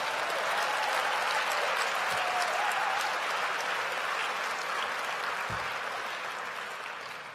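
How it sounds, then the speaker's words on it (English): Gala dinner audience applauds members of Congress and the Senate with steady, full-room clapping from a large crowd, sustained evenly before tapering slightly at the end. "perhaps we could have another round of applause"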